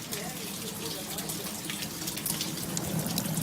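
Water leaks and gushes from a ceiling into buckets on a freezing day, a steady splashing rush with a few sharper splatters, getting slightly louder toward the end.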